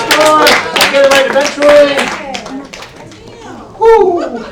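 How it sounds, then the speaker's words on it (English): Poetry slam audience clapping for a poet, a burst of applause mixed with cheering and voices, fading before a second short swell near the end. "Applaud the poet to the score"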